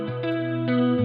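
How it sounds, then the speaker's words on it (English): Electric guitar melody processed with the RC20 Lush and Crunch Guitar 2 distortion preset, a few sustained gritty notes with chorus shimmer changing pitch in sequence, loud and alone. "The distortion is a bit too much, so I'm going to bring this down."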